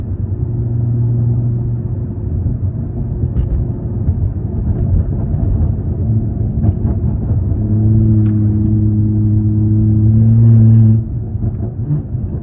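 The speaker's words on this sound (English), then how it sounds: "let's just cruise for a bit and kind of hear how the car sounds" A BMW G30 540i cruises steadily, its engine a low continuous rumble with sustained droning tones that swell and fade, heard from inside the car with no voices.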